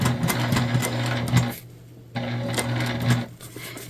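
A sewing machine stitches through a thick tote bag seam in two rapid, buzzing bursts, pausing for about half a second between them, loud and close with a rhythmic mechanical hum.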